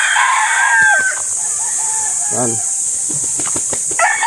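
Chickens and chicks in a coop, heard up close: loud clucking and a short crowing call, with a bright high chirping hum running underneath, and someone talking over the birds.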